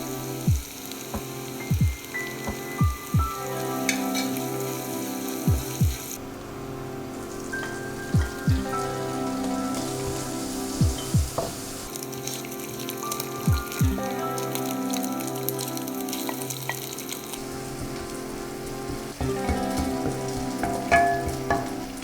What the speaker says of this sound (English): In a pan, heat up cooking oil, then place all the chopped ingredients and dried cuttlefish.